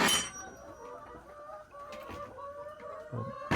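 Chickens cluck steadily inside a coop in the morning, several close birds giving repeated tonal clucks and calls, with a brief louder squawk near the end.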